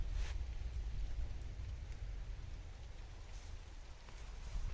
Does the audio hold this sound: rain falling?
yes